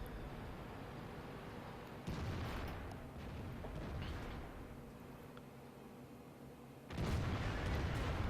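World of Tanks battle ambience with a tank cannon shot from an IS-8 heavy tank, a sharp loud blast around two seconds in and another heavy boom near the end over rumbling background.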